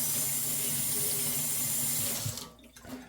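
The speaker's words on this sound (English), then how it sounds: "Let me rinse my hands off." Running tap water splashing over hands at a kitchen sink while sourdough bread is being made, a steady close rush that cuts off near the end, followed by faint drips and handling sounds.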